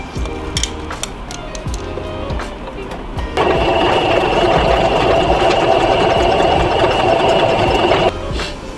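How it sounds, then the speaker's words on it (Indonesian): Electric sewing machine stitching along the edge of a fabric bunny bag, a steady loud whirring run of about five seconds that follows some handling clatter, close up with no voices. "Nah, kita akan menjahit di bagian pinggir ini ya teman-teman."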